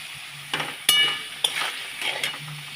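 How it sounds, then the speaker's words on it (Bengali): Potatoes fry in hot oil in a pan for a Bengali prawn curry with potato and eggplant. A steady close sizzle runs throughout, with sharp stirring scrapes and clinks at irregular intervals, and no voices. "আলুটা যাচ্ছে ভেজে"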